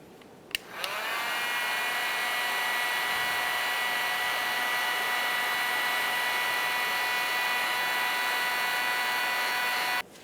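A heat gun switches on with a click and blows a steady, loud, whirring hiss while warming the side nameplate area on a 2000-2006 Chevrolet Tahoe, then clicks off.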